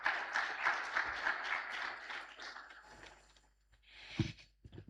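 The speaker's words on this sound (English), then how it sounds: "Please, a round of applause for her." Faint applause from an audience at a pre-departure orientation event, a soft wash of clapping that fades after a few seconds, with a brief muffled voice or noise near the end.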